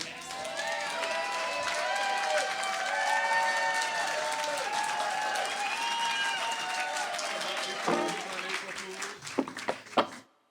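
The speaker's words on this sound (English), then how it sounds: "Make a little noise for Jonathan" A crowd applauds and cheers loudly for several seconds, with whoops and voices over the clapping, before it thins to a few scattered claps and fades.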